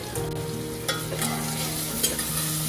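Spices and ground coriander sautéing in a hot pan for Nagpuri-style masala rice, a steady close sizzle with scraping stirs and a few sharper clinks of the spoon against the pan, no talking.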